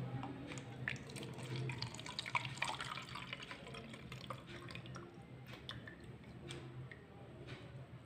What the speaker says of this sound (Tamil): இதை வந்து நான் ஃபில்டர் பண்ணிக்கிறேன்.